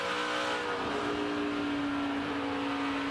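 A NASCAR Truck Series race truck engine drones steadily at Kansas, its pitch rising and sustained as it accelerates out of a turn, heard from a distance with no talking.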